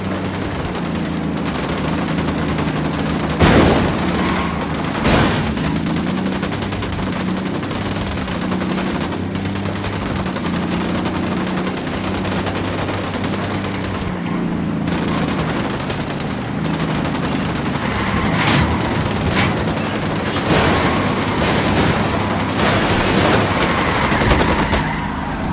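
Sustained automatic gunfire from a firefight in Tom Clancy's Ghost Recon, with rapid bursts and heavy volleys overlapping continuously at close range, punctuated by sharper single cracks.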